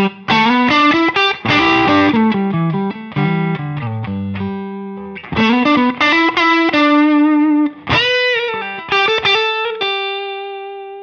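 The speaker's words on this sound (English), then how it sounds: "Here's my overdrive sound without the compressor on." Electric guitar played through an overdrive pedal with the compressor switched off, crunchy driven chords and single-note phrases with clear attacks and natural dynamic dips, ending on a ringing sustained note.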